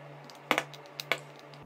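Small snipping clicks as soldered component legs are trimmed on a circuit board, a few sharp, quiet ticks in quick succession over a faint steady hum.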